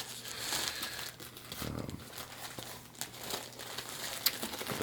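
A thick Dotty Diaper Company adult diaper is handled close up, giving a constant soft crinkling and rustling of plastic with brief sharper crackles and no talking.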